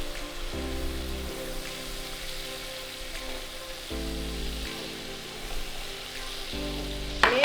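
Ingredients for Chinese chop suey rice are stir-fried fast over a high flame, giving a continuous, even sizzle with a low tonal hum beneath and a sharper clatter at the very end, with no one talking.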